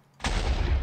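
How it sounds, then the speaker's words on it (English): A single sudden blast bursts in a block-building video game after near silence, loud and sustained with a rumbling low tail, and no voices. "Oh, I heard an explosion"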